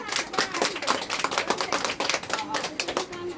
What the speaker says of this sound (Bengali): তার জন্য জোরে একটা হাততালি